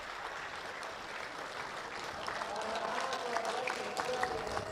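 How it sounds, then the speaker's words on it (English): A crowd applauds the NSW Waratahs and ACT Brumbies after the Super Rugby Men's U19s grand final, a broad, moderately distant wash of clapping that swells gradually and stays steady throughout. "A round of applause to both sides."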